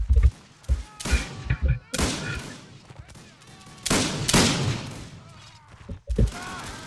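Gunfire from the LineBattle video game, several loud close bursts and volleys at irregular intervals, with voices talking between and over the shots.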